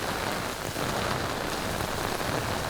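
Heavy rain pours steadily onto a disc golf course, a dense, even hiss of drops hitting the ground and surfaces all around, close and unbroken.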